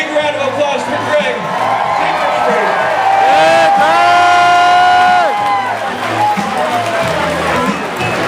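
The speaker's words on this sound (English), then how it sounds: "Big round of applause for Greg." Crowd at a rock concert in Providence cheering and shouting for Greg, with loud sustained whoops and yells swelling in the middle before tapering off.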